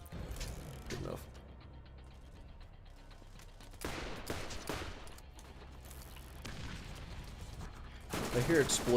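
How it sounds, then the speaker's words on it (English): Borderlands game combat, with bursts of gunfire and explosive blasts over mechanical clatter, scattered irregularly at moderate loudness, the heaviest burst at the end. "I hear explosions and I don't like it."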